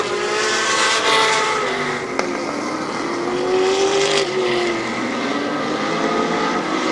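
Race cars roar around the dirt oval at Barberton Raceway Park during a heat race, one sustained loud engine drone rising and falling as the cars pass, no voices.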